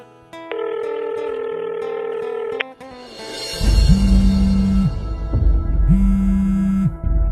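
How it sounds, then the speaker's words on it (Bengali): A landline handset plays a steady dial tone for about two seconds, followed by a louder outgoing ringback with two long buzzing rings over a background hum, with no talk. "একবার ফোনটা করে দেখি"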